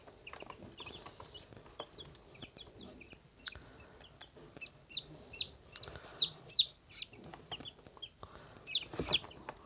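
Day-old chicks peep and chirp in quick, high bursts while each one is handled and checked for sex; the calls come close and irregular over a faint background.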